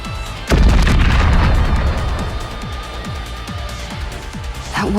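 A large bomb blast in the video game NIKKE erupts suddenly with a deep, heavy boom, then rumbles and crackles on, decaying with repeated rolling thuds.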